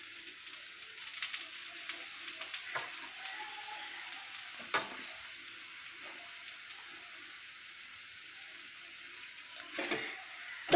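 A besan chilla sizzles in oil in a pan over a medium flame. The frying hiss is soft and steady, with occasional louder spatters and scraping clicks close by, and no talking.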